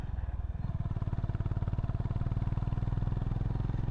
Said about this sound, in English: See, my bike is struggling.